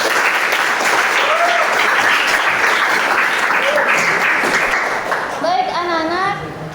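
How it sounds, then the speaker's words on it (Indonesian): Students in a high school history classroom clap for a classmate, a loud, dense burst of applause with children's voices and chatter mixed in. It thins toward the end, as one voice calls out. "Tepuk tangan."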